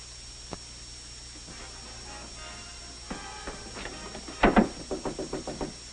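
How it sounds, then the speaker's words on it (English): Knocking at a door in a 1937 film: a few scattered taps, then a quick loud cluster of raps followed by a rhythmic series of knocks, heard over a faint, hissy old soundtrack. "Stop knocking at that door."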